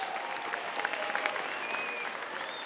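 Supporters applaud at a political rally for a US Senate candidate, a fairly faint but continuous patter of many hands clapping, heard from a distance.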